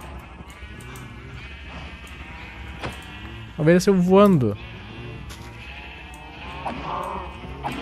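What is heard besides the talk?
sheep bleating in the video game Minecraft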